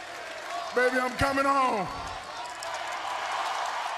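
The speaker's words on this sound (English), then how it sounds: "As the crowd erupts" A wrestling arena crowd swells into a sustained cheering roar right after a single voice rings out, the din filling the hall and staying loud to the end.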